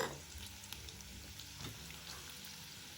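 Garlic pieces with dried red chillies frying in hot oil in a pan, a soft continuous sizzle with faint crackles, quiet and steady throughout.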